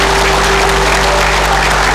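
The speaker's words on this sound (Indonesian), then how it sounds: "Kita beri tepuk tangan." Applause from an audience at an Indonesian community gathering marking Kartini Day, a steady dense wash of clapping filling the short moment with a faint steady hum beneath.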